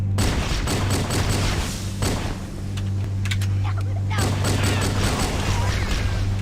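Pistol fire in Halo SPV3 comes as a rapid volley of sharp, booming shots over a steady low game drone, with a short lull midway before the shots resume.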